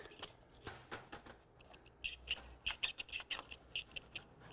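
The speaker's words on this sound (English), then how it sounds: "we'll just take our snippers and cut that back" Snippers cut back casing trim in a series of quiet, sharp clicks and snips, irregular and close, with no talk.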